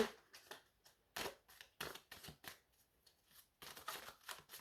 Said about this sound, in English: So just going to give these a very good shuffle.